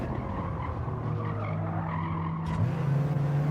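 A car in a racing video game skids hard, a loud sustained tire squeal layered over a raspy, gargly engine drone that swells near the end, with no voices.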